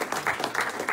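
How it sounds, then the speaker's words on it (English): An audience at a community gathering applauds in a brief, dense burst of overlapping claps. "A round of applause, ladies and gentlemen."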